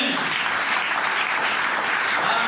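A congregation at a Christian church service claps steadily and loudly, dense and continuous applause filling the whole stretch without pause.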